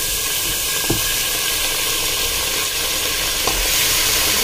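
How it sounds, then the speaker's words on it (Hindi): Mutton sizzling with golden fried onions in a pot, a steady loud hiss with occasional stirring clicks, close and without talk. "अब हम इसे फ्राई करेंगे"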